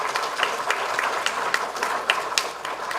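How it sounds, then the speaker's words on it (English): Steady applause from an audience at a cybersecurity lecture, a continuous patter of many hands clapping at moderate loudness in a hall, with a few sharper claps standing out. "let's all have a round of applause for that"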